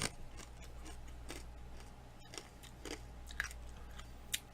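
A crunchy ranch-flavored snack being chewed close up, with irregular crisp crunches and bites over a low steady hum, quiet overall and without speech.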